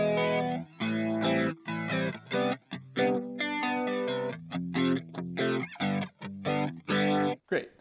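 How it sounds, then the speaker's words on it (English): Electric guitar played through its own built-in amp modeler with a slow, shallow vibrato and some distortion, a steady stream of sustained chords and notes ringing close and loud with brief gaps. "Maybe I could do a very slow vibrato"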